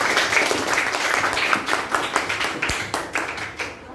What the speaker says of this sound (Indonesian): Tepuk tangan sama kita sekali lagi semua.